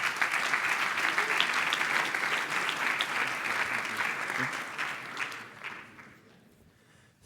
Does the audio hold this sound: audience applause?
yes